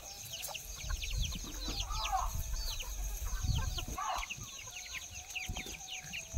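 A native gavran hen with chicks clucks softly on a village poultry farm, scattered chirps and a couple of louder calls over low handling noise and thumps, fairly close.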